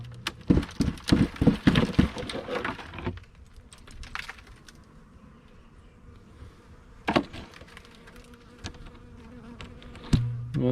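Bees buzz at a winter beehive, a steady insect drone mixed with sharp clicking and knocking, busier in the first few seconds, then quieter with scattered taps. No voices.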